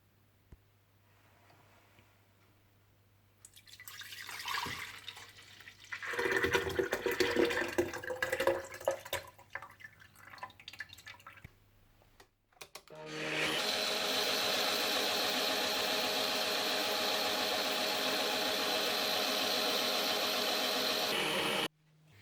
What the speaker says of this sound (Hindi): माश की दाल, जिसे मैंने दूध में भिगोकर रखा हुआ था, दूध के साथ ही ग्राइंडर में डालकर ग्राइंड कर लीजिएगा